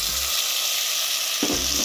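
Tomato sautés in a pan for a Jaffna-style spicy soya bean curry, a loud, close, continuous hissing sizzle with a low knock or stir near the start and end.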